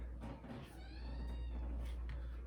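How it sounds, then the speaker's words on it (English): A young kitten gives a few thin, high meows close by, rising and falling over a steady low room hum indoors. "We have a new baby cat in the house, so if you hear her, that's what you're hearing."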